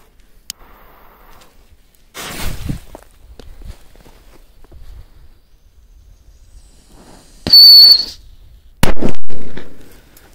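A firecracker thrown outdoors at night: soft footsteps and rustling, then a short hissing burst and a loud, sharp bang that rings out near the end.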